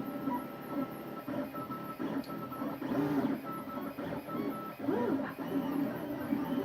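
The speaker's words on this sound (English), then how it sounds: "Now you can see that that's printing the raft, well not the raft, but that's going to be the support structure around the outside." A 3D printer lays down a support structure around a model, its stepper motors whirring and buzzing in quick shifting patterns with soft warbling tones, heard steadily at moderate distance without any speech.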